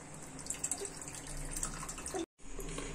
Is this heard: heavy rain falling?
no